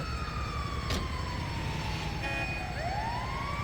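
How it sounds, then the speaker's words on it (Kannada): A wailing ambulance siren in the video game GTA 5 sweeps up and down, loud and close, over a constant rumbling engine drone with a brief sharp crash early on. "ಆಂಬ್ಯುಲೆನ್ಸ್ ಸೌಂಡ್ ಹಚ್ಕೊಂಡು ಹೊಂಟಿ ಬಿಡೋದು ಅಷ್ಟೇ ಈಗ ಕೆಲಸ ನಮ್ದು"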